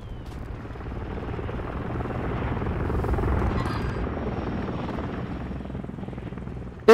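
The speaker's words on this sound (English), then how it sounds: "Send the Overwatch helo inbound." A helicopter from the Call of Duty MWIII multiplayer game, the Overwatch support chopper, drones with a steady low rotor rumble that swells slightly in the middle and holds at a moderate level throughout.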